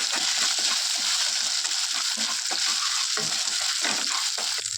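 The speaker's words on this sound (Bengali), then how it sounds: "লবণ হালকা একটু লঙ্কার গুঁড়ো দিয়ে মশলাটা কষিয়ে দেবো" Spice masala with salt and chilli powder is stir-fried for a vegetarian banana flower curry. A dense, loud sizzle runs throughout, broken by repeated stirring scrapes and wet sputters, close up with no speech.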